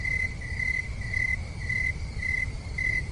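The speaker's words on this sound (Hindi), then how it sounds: "चारों तरफ घना अंधेरा है और सिर्फ झींगुर की आवाज आ रहा है।" Crickets chirp steadily in repeated pulsing trills at night over a low rumbling background, with no voices present.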